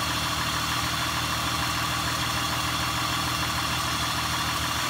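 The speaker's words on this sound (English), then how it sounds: "Now rev it up." The engine of a 2003 Honda Pilot runs close by with a steady, dense mechanical hum and vibration at a constant level for about five seconds, with no voices.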